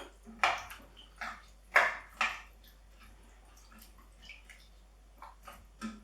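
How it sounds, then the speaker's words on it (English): A spoon stirs a pot of black bean and chorizo stew with tomatoes, chilli, thyme and cold water, making a few soft, scattered knocks and wet scrapes close up in a quiet kitchen. "Give that a quick stir."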